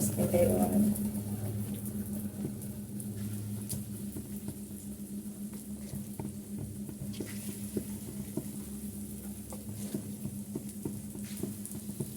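Semolina pitha fries in a little oil in a pan, giving a soft, steady sizzle with faint crackles throughout while someone talks over it.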